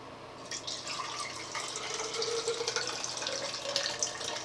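Cold tap water runs gently to rinse freshly developed C-41 colour film, a steady close splashing hiss with light trickling, no voices.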